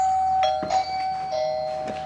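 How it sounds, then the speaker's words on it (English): Indoor chime of a Wyze Video Doorbell Pro ringing: a clear electronic ding-dong tone sounding twice in quick succession, moderately loud and alone. "And then the other doorbell on the inside with the chime also rang."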